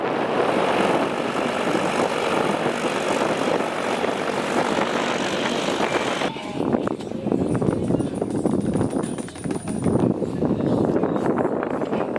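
A rotor aircraft lands during an air show in Sfax, its propeller engine droning steadily and loudly throughout, with the tone shifting partway as it flares and sets down.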